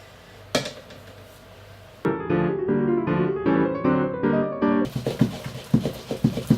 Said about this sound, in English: sieve it properly so there's no lumps and no air